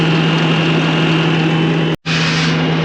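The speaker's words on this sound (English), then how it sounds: "He has to keep the tires spinning," A vehicle engine runs hard with its tires spinning, a loud, steady droning hum close by, broken by one brief sudden dropout before resuming at the same level, with no talk.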